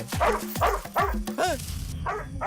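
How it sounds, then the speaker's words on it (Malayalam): A dog barks and yips several times in quick succession, close by, ending with a whine-like yelp; a voice murmurs faintly in between. "അതിനോട് കുരയ്ക്കാതിരിക്കാൻ പറയടാ."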